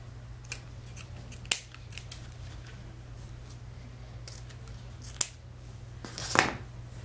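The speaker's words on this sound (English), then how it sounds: "I'm just gonna cut a small piece" Scissors cut a small piece of ribbon for a craft wreath, with a few sharp, close snips spread across a steady low hum, the last cut slightly longer and rustlier.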